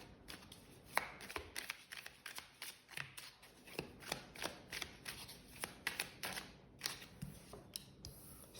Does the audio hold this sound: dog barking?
no